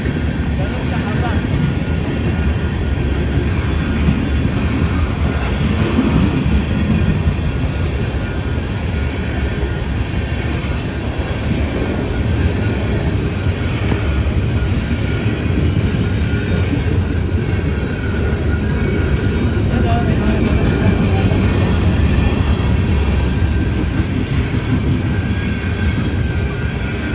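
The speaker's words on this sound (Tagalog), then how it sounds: "Haba ng train guys, oh. Sobrang haba." A very long train rolls past nearby, a steady broadband rumble and clatter of wagons that holds level throughout with no gaps, loud and continuous.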